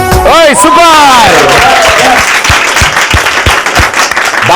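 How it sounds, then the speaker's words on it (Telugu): A studio audience at a Telugu TV game show claps loudly after a cheering shout, the clapping carrying on as a dense, uneven patter of hands at close range. "బామ్మ గారు గట్టిగా చప్పట్లు కొట్టండి."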